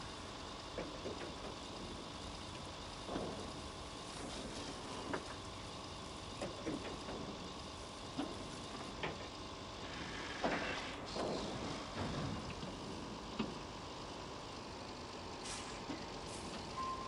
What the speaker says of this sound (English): epic crane, truly epic. You can drive this thing anywhere.